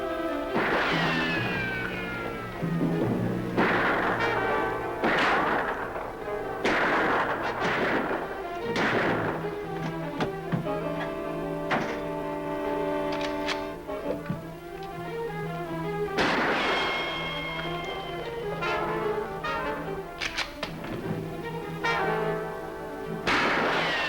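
Rifle gunfire rings out in a gunfight, sharp booming shots at irregular intervals across a busy, music-laden soundtrack.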